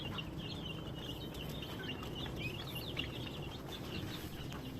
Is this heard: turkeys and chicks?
yes